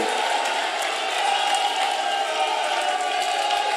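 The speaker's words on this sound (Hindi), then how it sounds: "ताली बजाओ अरविंद जी के लिए जोर से" A large crowd at an Amit Shah election rally in Rohtak, Haryana claps and cheers for a Lok Sabha candidate, a steady, dense, slightly distant wash of clapping and crowd noise with a voice faintly mixed in.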